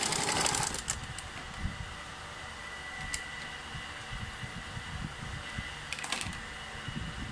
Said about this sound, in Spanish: Voy a coser al centímetro.